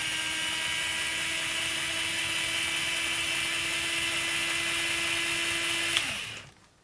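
A DEWALT 4V cordless screwdriver with FLEXDRIVE control runs in first gear reverse, giving a steady, close electric motor whine with a constant pitch for about six seconds before cutting off and spinning down.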